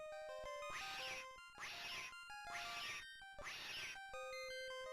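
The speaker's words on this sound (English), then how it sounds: "That's a real cat if I've ever heard one" Cat meowing in the Harry Potter and the Chamber of Secrets video game: four drawn-out meows in a row, each surrounded by chiming musical tones, clear and moderately quiet.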